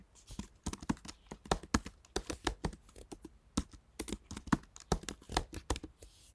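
Fast, quiet typing on a computer keyboard as a cluster name is entered, an uneven run of crisp key clicks close by with no voices.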